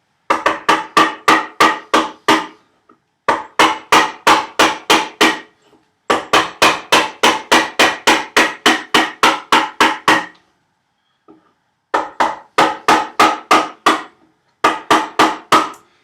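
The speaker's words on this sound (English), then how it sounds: "And keep your chisel straight." A wooden mallet strikes a chisel to split tenon cheeks on a workbench, giving sharp, evenly spaced knocks in runs of about ten, separated by short silent pauses, close and loud.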